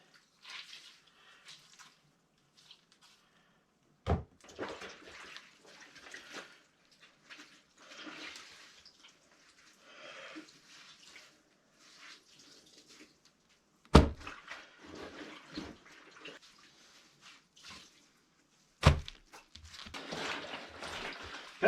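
Thick wet pants wrung out by hand over a laundry tub while doing laundry off the grid on a homestead: intermittent splashing, trickling and dripping water, with a few sharp knocks or clunks, near and without talk.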